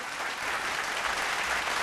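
An audience claps for a performer at a televised singing competition, a dense, even wash of applause from a crowd that holds steady at moderate level throughout.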